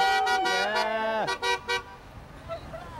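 A car horn on the east side of Milwaukee during a Brighten the Night neighborhood event gives one long honk, then three short quick toots, followed by fainter crowd voices.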